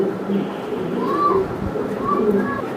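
Crested fancy pigeons offered for sale coo in soft, repeated rising-and-falling calls amid a steady murmur of background noise and faint voices.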